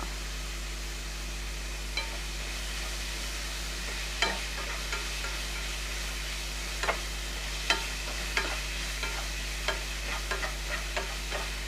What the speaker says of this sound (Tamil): நல்லா இந்த வெங்காயம், தக்காளி, பச்சை மிளகா, இஞ்சி பூண்டு எல்லாமே நல்லா வதங்கணும்